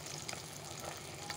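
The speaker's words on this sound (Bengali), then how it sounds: "তো চলো মাছগুলো আগে ভেজে নেই" Fish frying in a pan for a home-cooked lunch, giving a steady, close, continuous sizzle and crackle throughout with no voices.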